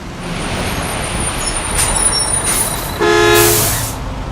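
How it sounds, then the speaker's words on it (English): A garbage truck blasts its horn at close range on a street, a loud sustained honk near the end over steady traffic rumble with a hiss of air brakes. "His cover is blown when a garbage truck honks its horn."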